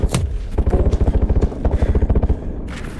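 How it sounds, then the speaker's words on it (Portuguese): Rapid automatic gunfire in a video game, a loud, close burst of evenly spaced shots lasting about two seconds after a few single cracks, with no talk over it. "Quem é que tá atirando ali?"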